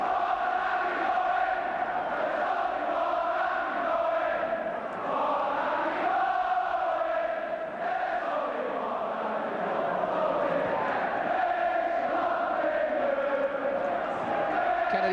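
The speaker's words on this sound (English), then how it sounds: "here's his name echoing around the crowd at that end of the stadium" A football stadium crowd chants a player's name from one end of the ground, a continuous, echoing roar of voices rising and falling throughout.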